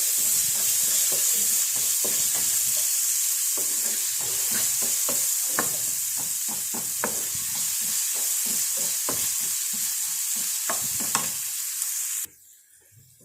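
Onion, coconut pieces and salt frying in a pan, a steady loud sizzle with repeated scraping stirs of a spoon throughout, cutting to near silence at the very end.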